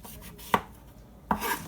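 A sharp kitchen knife cuts through a butternut squash and strikes the cutting board with two crisp, separate chops, close and clear with a short quiet gap between them.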